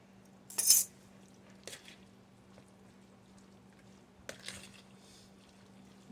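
Ingredients for a macaroni shrimp salad are mixed in a bowl: one loud metallic clink, then a few softer spoon taps and scrapes with quiet gaps between, over a faint steady hum.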